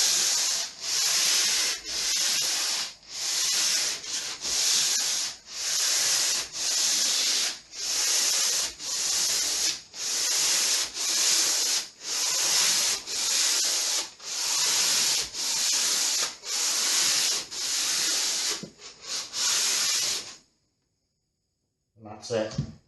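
Hand sanding of a loft hatch cover with 180 grit sandpaper in one direction: loud, close, rhythmic rasping strokes with a hissy texture repeating about once a second, then stopping briefly near the end before a short sound.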